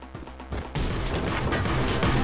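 Gunshots in the shooter Anger Foot burst in after a brief quieter lead-in, becoming loud, dense and close, with heavy impacts.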